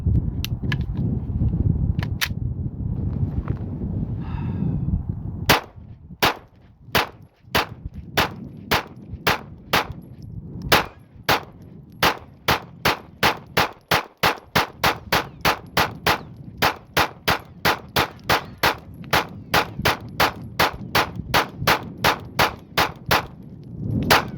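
Rapid gunfire from a Glock 45 pistol fed by a KCI 50-round drum magazine, starting with a few scattered shots, then settling into a long, steady string of sharp, loud reports fired one after another at close range.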